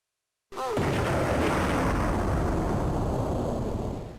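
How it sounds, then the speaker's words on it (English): A large explosion from a retro shooter video game bursts in after a moment of silence, then roars and rumbles loudly and continuously before easing off near the end. "have a look at these explosions"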